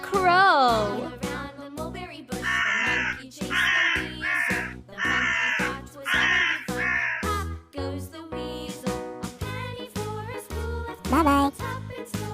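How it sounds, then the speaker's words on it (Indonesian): A crow caws loudly and repeatedly in a steady series of harsh calls over a looping children's music track, with the calls near and prominent throughout. "Crow."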